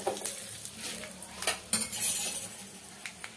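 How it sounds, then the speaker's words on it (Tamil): Fennel seeds and cinnamon fry in hot oil in a pan, a soft sizzle under clinking and scraping from a utensil against the metal, close by with a few sharp knocks and no talking. "அதே வாணலி அடுப்பில் வச்சுட்டு ஆயில் ஊற்றிட்டு கொஞ்சம் சோம்பு,"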